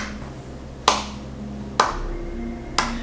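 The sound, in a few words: soft clapping imitating water dripping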